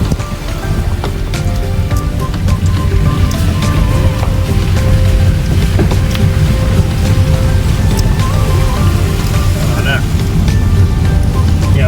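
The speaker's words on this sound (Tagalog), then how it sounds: "ulan, baha na, musaka ng tubig diri" Steady, heavy rain pours down on a road with flooding, a dense continuous wash of noise with scattered drops striking a surface nearby, and faint voices underneath.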